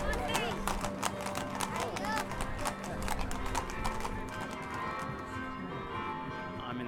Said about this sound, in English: an amazing display of dancing horses